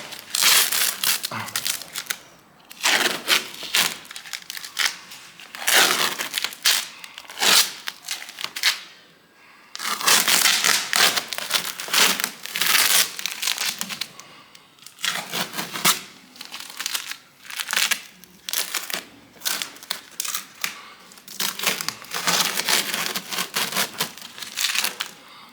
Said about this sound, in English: Once you've actually got it to the shape you want, start pulling the masking tape off.